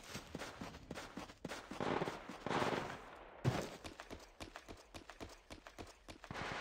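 Video game gunfire comes as quiet, rapid bursts of sharp shots with brief pauses between volleys, rattling along like a fast-firing weapon.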